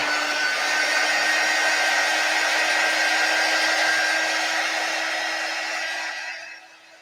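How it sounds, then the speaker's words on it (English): A Chalk Couture quick dry tool blows air in a loud, steady, close whir with a fixed motor whine, then fades out over the last second. "Quick dry tool is not plugged in."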